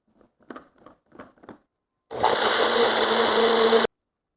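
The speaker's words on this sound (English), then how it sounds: "I'm going to puree the pandan leaves with the coconut cream." A blender purees chopped pandan leaves with coconut cream in a steady, loud whirring burst of nearly two seconds, preceded by a few soft kitchen knocks and clicks.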